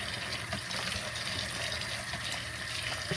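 Tap water runs continuously as chicken pieces are rinsed under the faucet, a steady close gushing splash with no talking.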